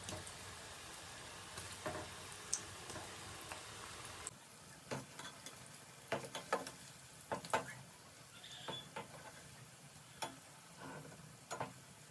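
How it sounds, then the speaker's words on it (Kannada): Aloo bonda coated in gram flour batter fry in hot oil, giving a faint, steady sizzle with scattered small pops and ticks close by, and no talking. "ಎಣ್ಣೆ ಕೂಡ ಬಿಸಿಯಾಗಿದೆ ಇವಾಗ ನಾನು ಬೋಂಡನ ಹಾಕ್ಕೊಳ್ತಾ ಇದ್ದೀನಿ"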